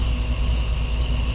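A rebuilt car engine idles with a steady, continuous low rumble, slightly high and held without change for a short moment.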